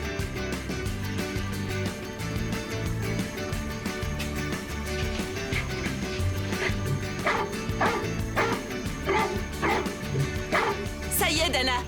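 A cartoon dog from PAW Patrol yips and barks several times in quick bursts over music, with characters talking around the barks.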